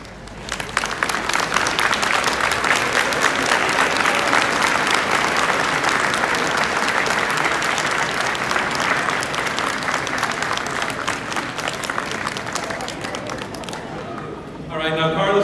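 A graduation audience breaks into sustained, dense applause filling the room, steady and loud for most of its length before tapering off near the end.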